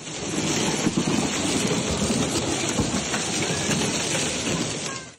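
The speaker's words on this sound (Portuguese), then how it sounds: "os moradores registraram algo nada comum nessa época do ano: chuva de granizo, além de raios e rajadas de ventos" Hailstorm in Piauí, Brazil, with lightning and gusty wind: a dense, steady roar of hail and rain pelting surfaces, loud and continuous throughout with no talk.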